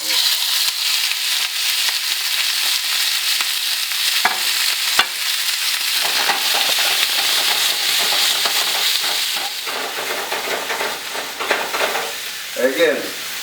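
Shrimp sautéing in olive oil in a hot pan gives a loud, steady sizzle and frying hiss throughout, with occasional stirring scrapes and clatters close by.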